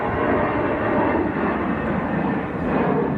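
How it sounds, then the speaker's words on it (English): A steady, broad jet roar of an Aer Lingus airliner rolling for takeoff at Manchester Airport in windy weather, dense and sustained without a break. "There's Aer Lingus on the roll as well, Tom."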